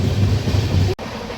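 Howrah-Tirupati Humsafar Express running fast, a loud continuous low rumble and rushing roar from inside the carriage, cut by a sudden brief dropout before the roar resumes slightly thinner.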